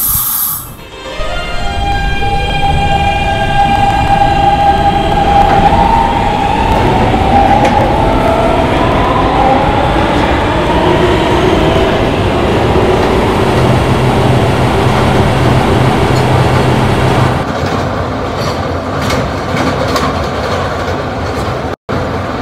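Inside an R160B New York City subway car on a Gatlin-bound D train, a loud steady rumble of motors and wheels runs throughout, with a rising whine early on, hissing and a brief click near the end, no talk.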